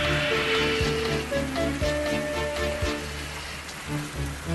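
Heavy rain pours down steadily on a railway line in an animated story, a dense continuous hiss with scattered drops, accompanied by faint low musical tones and no speech.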